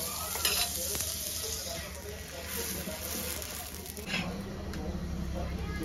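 Butter sizzles steadily in a pan to make anda ghotala, with occasional stirring scrapes, and faint voices talk in the background.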